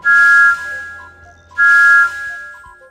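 Two bright, steady train-whistle blasts from Thomas the Tank Engine in a Thomas & Friends computer game, each about half a second long and separated by a pause, with soft chime-like tones trailing after each one and no talking.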